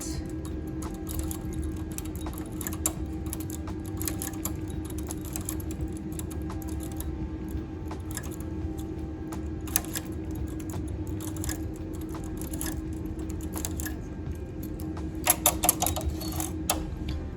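Needles on a knitting machine bed are shifted by hand, producing faint, irregular metallic clicks and ticks over a low background hum, with a quick cluster of sharper clicks near the end.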